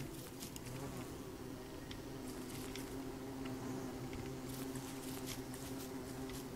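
Bees buzz steadily in the video game Don't Starve, a continuous faint drone with small clicks and patters scattered throughout, with no talking.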